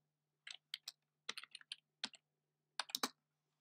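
Keys tapped on a Mac computer keyboard in three quick bursts of clicky strokes, close and clear, with short pauses between and no talking.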